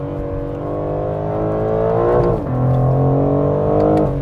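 BMW M4 Competition accelerating hard through a corner with traction control off, a loud close engine roar climbing in pitch, briefly dipping at a gear change, then pulling again, with no talk.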